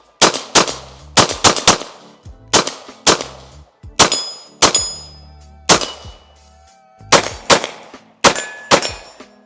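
A Walther PDP Steel Frame Compact pistol fires loud, sharp shots up close in quick pairs and short strings with brief pauses, each crack followed by a ringing metallic ping.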